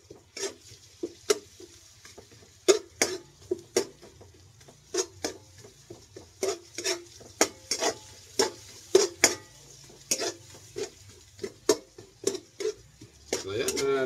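A blue marlin fish steak cooks with white onion in a pan, Filipino bistek style, as a utensil clacks against the pan in a steady run of sharp, close knocks over a faint sizzle.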